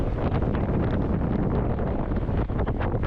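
Heavy wind buffeting a microphone during a gravel bike ride near Masi Torello, Ferrara, a loud continuous roaring rumble that fills the whole stretch without a break.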